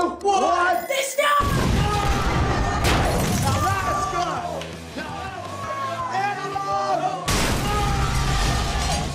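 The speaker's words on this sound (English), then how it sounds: "that was the best explosion I've ever seen in my life" An explosion on Cartoon Network's build-and-destroy show Destroy Build Destroy: a loud burst of blast and shattering, then a second broadband crash later, with people yelling and talking around it.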